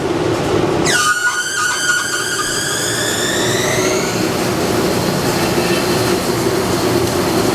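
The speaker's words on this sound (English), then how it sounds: "This is a CNC machine." Loud CNC machine roar in a bass guitar factory, with a high whine sweeping downward after a sharp onset, then steady mechanical noise continuing throughout.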